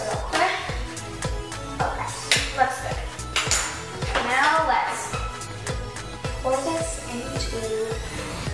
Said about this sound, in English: Stir it real quick.